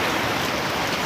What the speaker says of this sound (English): look at the rain just skirt down the road